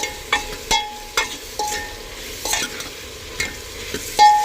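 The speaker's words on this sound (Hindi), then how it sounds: "सभी चीज़ों को अच्छे से मिक्स कर देती हूँ" Vegetables stirred with salt, cumin powder, red chilli powder and turmeric in a pan, a series of sharp spatula scrapes and clinks against the metal over a low sizzle, close and fairly loud, no talking.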